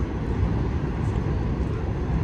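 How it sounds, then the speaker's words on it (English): A train runs through Fort Lauderdale near a boat marina, heard as a steady, broad low rumble that holds for the whole stretch without a break. "That noise you're hearing is the train that runs right through."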